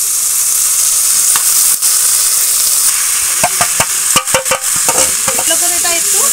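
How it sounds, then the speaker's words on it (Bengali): Lentil mixture stirred into hot oil with fried garlic: a steady bright sizzle throughout, with a cluster of sharp scraping and clattering strokes from the spoon in the second half, close and loud, no talking. "ভালো করে এটা একটু নেড়ে নেবো এইভাবে।"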